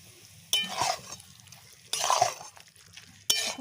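Hot tarka poured over dal for a dhaba-style recipe, then stirred in: three separate bursts of sizzling and spoon-scraping, each loud at onset and fading, with quiet gaps between.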